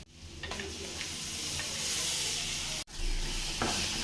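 A spoon stirs ingredients in a frying pan for Tamil pepper tomato thokku, with scraping strokes under a continuous loud sizzle and hiss, briefly cut off before the frying resumes.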